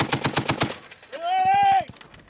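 A .50 cal machine gun mounted on a Humvee fires a rapid string of about seven heavy, loud shots, then a voice shouts over a few more dull thumps at the end.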